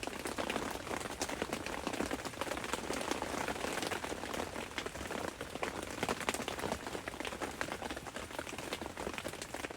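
Steady rain patters densely on a surface at a campsite, a constant hiss of drops with no pauses, moderately loud and close.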